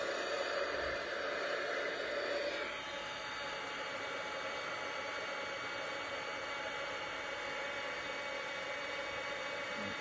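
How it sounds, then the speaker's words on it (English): Heat embossing tool blowing steadily at close range to melt embossing powder on a Stampin' Up! card, a constant loud whooshing hiss with a slight drop in level partway through, no voices. "Going to do our embossing."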